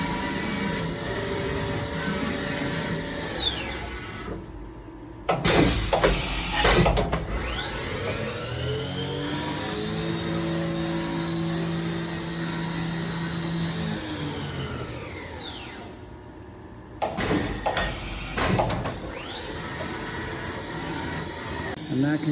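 Chevalier EM2033L vertical machining center spindle spinning up to 10,000 RPM: a rising high-pitched whine holds steady, then falls away, framed by louder mechanical clatter at start and finish.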